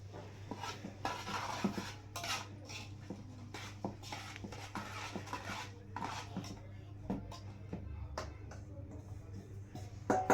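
Mango pickle pieces being mixed by hand with oil and spices in a metal vessel, giving soft clattering, scraping and rubbing sounds in irregular bursts, close and moderate in volume.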